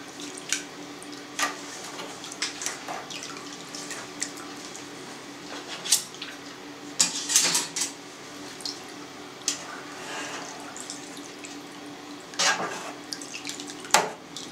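A whisk or spoon stirs and breaks up cheese curd in a pot of warming milk for homemade cream cheese, giving irregular wet clinks, scrapes and sloshes against the pot, close and continuous with no talk.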